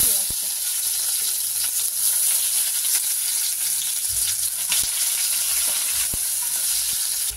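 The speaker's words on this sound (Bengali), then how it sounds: "এবার তেলের মধ্যে দেবো একটু পেঁয়াজ কেটে রেখেছি" Chopped onion frying in hot oil with dried chilli, bay leaf and fenugreek, a loud, continuous close sizzle with a few sharp clicks from stirring.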